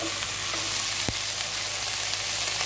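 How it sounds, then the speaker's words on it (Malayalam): Chilli chicken sizzling steadily in a pan as chopped capsicum goes in, a constant close frying hiss with one brief sharp clack of a spoon or pan. "ഇതിലേക്ക് നമ്മൾ നേരത്തെ അരിഞ്ഞു വെച്ചിരുന്ന ക്യാപ്സിക്കം കൂടെ ചേർത്ത് കൊടുക്കാം"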